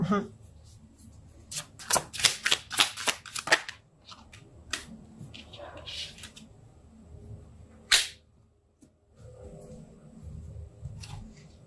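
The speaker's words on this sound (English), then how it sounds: "I'm going to pull some more cards and see what else the story has to say." Tarot cards shuffled by hand in a rapid burst of crisp riffling clicks near the start, followed by softer handling sounds, one sharp snap and quiet background noise.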